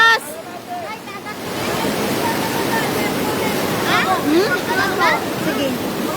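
Strong floodwater rushes in a loud, continuous roar that fills the scene, while voices shout and talk over the torrent.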